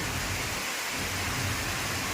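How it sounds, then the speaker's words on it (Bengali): A thunderstorm with heavy rain and strong wind, steady broadband roar of downpour and gusts with low thunder rumble underneath, continuous and fairly loud throughout, no voices. "বৃষ্টি চলছে, বৃষ্টির হাওয়া চলছে, বয়ে চলেছে বৃষ্টির হাওয়া"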